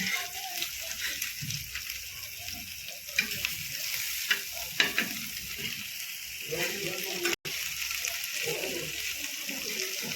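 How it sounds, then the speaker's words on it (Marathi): Mackerel frying in oil in a pan for a home-style crisp fish fry, a steady close sizzle with stirring and occasional scraping as the fish are turned, with faint voices now and then. "सगळे मासे परत एकदा पलटी करून घ्यायचे, म्हणजे ते दोन्ही साईडने असे खरपूस भाजले जाते."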